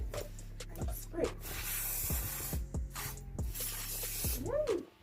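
Hair spray hisses in several short bursts onto styled bob box braids, close and crisp, with pauses between sprays and a bit of background sound.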